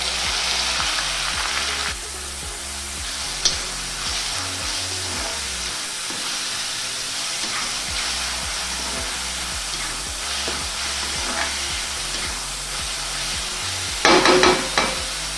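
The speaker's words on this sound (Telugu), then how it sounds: "ఉల్లిపాయలు బాగా బ్రౌన్ కలర్ వచ్చేంత వరకు బాగా వేపుకోవాలి." Chopped onions and cumin seeds fry in hot oil for chicken handi, a steady close sizzle and crackle running throughout with brief stirring clatters near the end.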